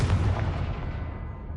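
Confringo fire spell blast in the Hogwarts Legacy video game, a single booming explosion whose rumble decays quickly over about a second and a half, heard alone.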